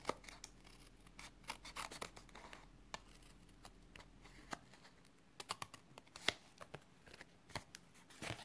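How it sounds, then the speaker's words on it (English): Quiet, scattered snips of scissors trimming excess paper from a handmade card, irregular and close, with soft rustling and faint clicks between the cuts. "We're just going to take our scissors and we're just going to trim away"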